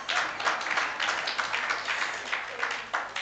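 An audience at a leadership and mentoring talk claps steadily for a few seconds, with a moderately loud, even wash of many hands and no voices on top.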